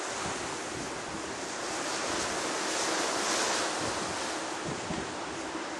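Ocean water churned by a cruise ship passing through calm Caribbean sea makes a broad, steady rushing wash mixed with wind buffeting the microphone, continuous and fairly soft, with no voices.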